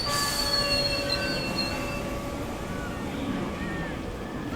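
A train slows as it pulls into Jamshedpur station, a steady rumbling roar with thin high wheel squeal running over it, continuous and fairly loud with no voices.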